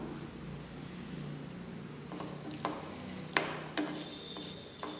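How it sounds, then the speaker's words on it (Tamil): Mustard seeds, urad dal and cumin splutter in hot oil, a steady crackling sizzle broken by a few sharp pops, with no talk. "கடுகு வெடிக்கணும், அப்போ தான் நல்லா வந்து டேஸ்ட்டு வரும்."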